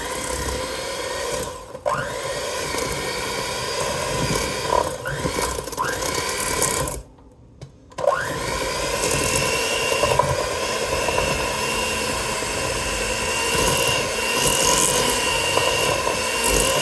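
Butter and eggs for chocolate chip cookie dough are blended by an electric mixer, a steady whining motor hum with pitch sliding as the load shifts, briefly stopping midway before running on, close and loud.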